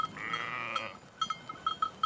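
Sheep in an alpine flock bleat close by: one long drawn-out bleat, then a series of short, rhythmic calls from several animals, with no talking.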